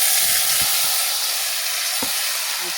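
Bitter gourd dropped into hot oil with a little ginger-garlic paste sets off a steady, close sizzling hiss that continues throughout, with a few faint clinks from the pan.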